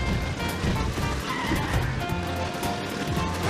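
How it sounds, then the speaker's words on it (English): A car crashing into another car in Super Mario Maker 2, a dense continuous game mix of engine whine, skidding and clatter with rhythmic music, busy and loud throughout. "I'm crashing one car into another."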